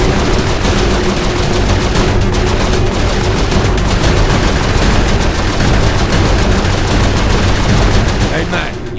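Turret gunfire in the video game Saints Row 4, a dense continuous barrage of rapid shots and booms that runs loud and unbroken for the whole stretch under game noise.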